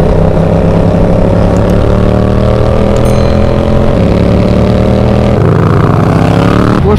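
A 2019 motorcycle being ridden, its engine holding a steady, close, fairly loud drone with a shift in pitch near the end.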